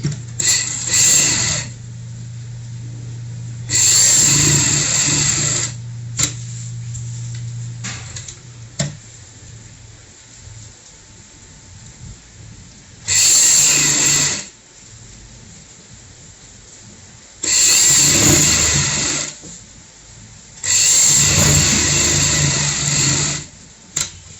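Domestic sewing machine stitching a half-inch seam on a pillow cover, running in several loud bursts of a few seconds each, separated by quieter pauses with a low hum underneath.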